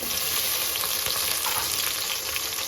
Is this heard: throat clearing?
no